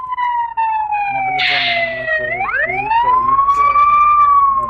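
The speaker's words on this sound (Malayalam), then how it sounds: "ആംബുലൻസ് ആണ് സൗണ്ട് വരുന്നത്" An ambulance siren in the Bus Simulator India video game, loud and close, a wailing tone that dips and rises again, with talk over it.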